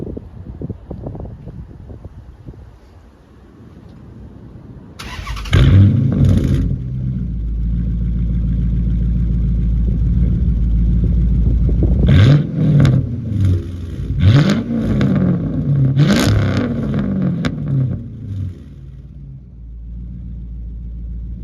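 A Chrysler 300C, already warm, cranks and fires up after a stretch of wind noise. It settles into a deep, steady idle, then gives several sharp throttle revs that rise and fall before dropping back to idle.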